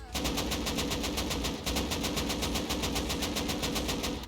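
Sustained rapid automatic gunfire in the video game Rust, steady loud bursts of evenly spaced shots fired at an obstacle, continuous for several seconds with a brief dip partway through.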